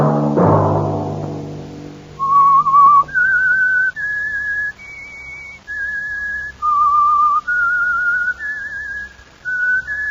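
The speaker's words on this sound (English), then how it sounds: "Let that whistle be your signal for the Whistler each Sunday night at the same time." A lone whistler performs the eerie theme of The Whistler radio show, a series of sustained, wavering notes stepping up and down in pitch, following a fading low chord, clear and close.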